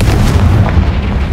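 A Confringo blasting spell goes off in the video game Hogwarts Legacy, a loud, dense boom with heavy low rumble sustained throughout, like close artillery fire.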